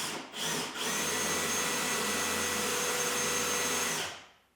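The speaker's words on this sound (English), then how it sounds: "You can drill all the way through." Power drill cutting out a spot weld in a shop, a short burst then a sustained, steady high whir for about three seconds that winds down at the end.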